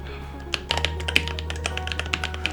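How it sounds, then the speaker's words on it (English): Rapid, uneven keystrokes on a newly upgraded computer keyboard, originally a $50 board, clatter near and clear over a steady low hum, with sharp individual taps spreading across the whole stretch. "So now, I want you to try out your new keyboard."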